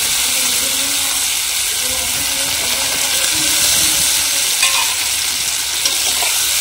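Potato and eggplant pieces fry in oily spice paste in a pan for a Bengali fish curry, giving a steady close sizzle with stirring scrapes throughout, faint background voices underneath.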